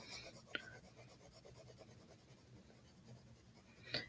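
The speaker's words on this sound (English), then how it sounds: "See, it's really hard to get light shading with this 6B pencil." A soft 6B graphite pencil scrapes back and forth across paper in faint, steady shading strokes, close but quiet under a low background hiss, with a couple of small taps.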